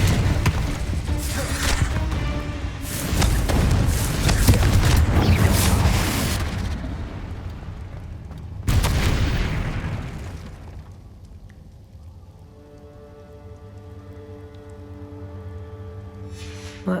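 Confringo fire-spell explosions in Hogwarts Legacy, a couple of loud, roaring bursts with long rumbling tails, followed by a quieter stretch of tonal game music and ambience.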